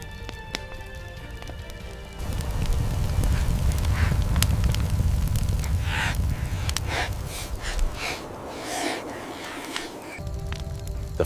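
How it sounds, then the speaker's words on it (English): An early humans' campfire with glowing embers crackles softly over a low, warm hum, scattered snaps and pops rising and falling steadily throughout with no voices. "The fire hums, crackling softly, almost alive."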